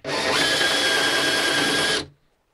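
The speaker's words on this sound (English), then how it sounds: "All right, so here we go with drilling this hole." A power drill bores a hole through a sailboat hull, a steady high whine held for about two seconds before stopping abruptly, close and loud with no talk.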